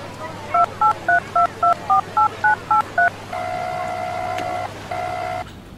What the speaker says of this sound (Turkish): Bir telefon görüşmesi yapmam gerekiyor.